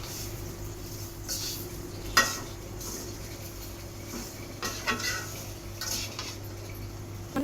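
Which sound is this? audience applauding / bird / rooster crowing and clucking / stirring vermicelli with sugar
stirring vermicelli with sugar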